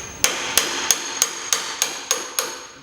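A hammer strikes a manual impact driver eight times in a steady rhythm, each blow a sharp bright metallic clank that rings briefly, heard close and alone while loosening a fastener on a Harley chassis.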